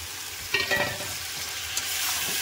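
Cabbage is stir-fried with spices in a pan, giving a close sizzle punctuated by a quick burst of scraping, stirring strokes early on, then a steady frying hiss.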